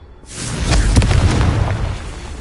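Confringo blasting spell from a Hogwarts video game, a single loud booming explosion that erupts abruptly and rumbles on with crackling debris, close and alone.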